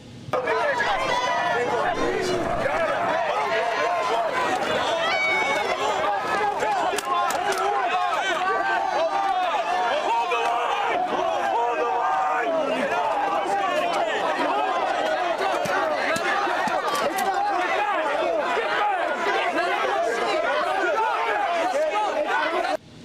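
A protest crowd in El Cajon, California scatters after police fire pepper balls, with continuous loud overlapping shouting and chatter, running footsteps and commotion throughout.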